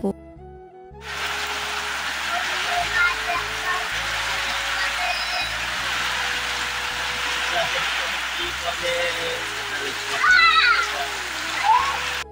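Sudden rain starts in a village and falls steadily as a loud, close hiss and splatter, continuing evenly for several seconds with faint background sounds.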